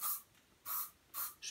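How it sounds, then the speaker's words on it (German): Nivea Volumen Kraft und Pflege hairspray sprayed from an aerosol can in three short, close hissing bursts with brief pauses between them, and a fourth burst starting at the end. "Dann nehme ich von Nivea das Volumen Kraft und Pflege Haarspray und"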